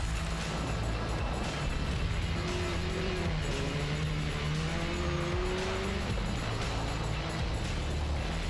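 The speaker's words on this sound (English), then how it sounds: "ARX 2 cars are coming up to the line." ARX2 rallycross race cars at the 2019 ARX of Austin rumble near the line during qualifying, a steady engine drone with rising and falling revs under loud ambient noise.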